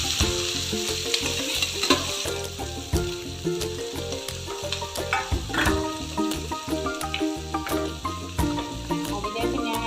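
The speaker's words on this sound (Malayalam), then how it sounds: "ആ ഓയിലിലേക്ക് തന്നെ ഞാൻ ഈ കട്ട് ചെയ്ത് വെച്ച സവാള വയ്ക്കാൻ വെച്ചു" Chopped onion hisses and sizzles in hot oil in a pan while cooking a home recipe with okra and egg, a continuous crackling fry with stirring noises under steady melodic background music.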